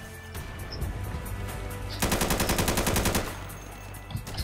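Gunfire in the tactical shooter Insurgency, a loud rapid automatic burst with a steady fast rhythm standing out over the game's background rumble, with no talking.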